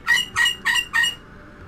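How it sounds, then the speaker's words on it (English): A bird squawks loudly indoors in four harsh, evenly spaced bursts, each about a fifth of a second long, then falls silent. "I'm just going to wait for the bird to finish going literally nuts."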